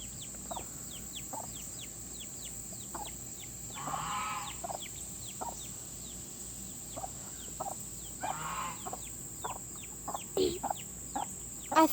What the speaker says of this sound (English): I think it's gonna be a Bantam rooster because it's already growing some feathers on its legs at this early of an age